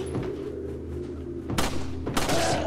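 Two sharp gunshots in Resident Evil 4 crack out loud and close over a low droning game soundtrack, spaced about half a second apart, with a brief tail after each.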